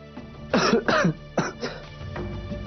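Someone coughs from dust in several harsh, close bursts, four or five spaced coughs in a row with a brief throat-clearing tail, heard over a phone-call scene.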